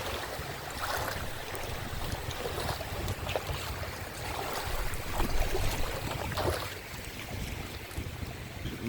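Strong sea current churning over a rocky shoreline, a steady rushing roar of water with wind buffeting the microphone, fairly loud and continuous with no talking.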